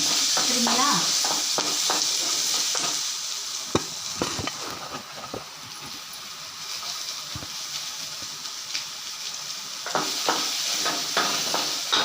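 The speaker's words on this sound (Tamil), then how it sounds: "இதெல்லாம் அதில் போட்டு நல்லா வதக்கிடணும்." Onion and garlic sauté in sesame oil, a steady close sizzle with stirring scrapes and clinks running throughout, with occasional brief voice sounds in the background.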